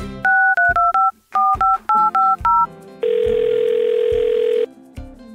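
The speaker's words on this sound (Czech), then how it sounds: "Jako každý správný telefon, i veselý mobil umí volat." A battery-powered Czech-speaking toy mobile phone dials out: a quick run of loud two-tone keypad beeps, then a long steady dial tone, followed by short bursts of ringback.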